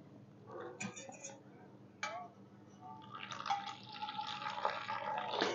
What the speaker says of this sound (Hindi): एक बार में पूरा पानी नहीं डालना है आपको